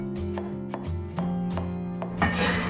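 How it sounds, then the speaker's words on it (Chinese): Potatoes are chopped into small pieces with a cleaver on a board, about eight crisp knocks in an uneven rhythm, close and clear, with no talking. "我们把土豆给它斩成小块"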